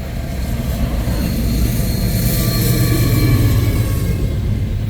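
A CN freight train rumbles past nearby, a steady, loud roll of wheels and engine noise with faint squeals overhead and no pause throughout.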